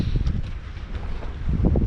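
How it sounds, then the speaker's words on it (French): Strong wind of about 25 knots gusts over a sailboat lying at anchor on 40 metres of chain off Coruña, buffeting the microphone in loud, uneven low rumbles with no voices. "on n'a pas l'impression mais ça souffle costaud là quand même"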